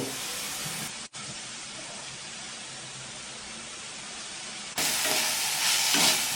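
Ginger garlic paste sautés in a hot pan, giving a continuous hissing sizzle with a brief break early on and a louder, brighter burst of frying near the end.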